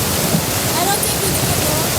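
A slippery river rushing loudly and steadily, with broadband water noise filling the whole two seconds without a break.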